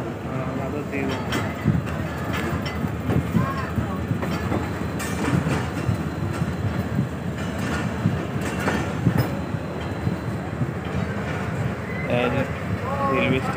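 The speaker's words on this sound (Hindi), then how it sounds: "रेलवे स्टेशन है, बड़ा पुराना रेलवे स्टेशन है मुल्तान का जी" Train sounds at the old railway station in Multan, a continuous rumbling wash of rail traffic and station bustle with faint rhythmic clatter, heard under people talking throughout.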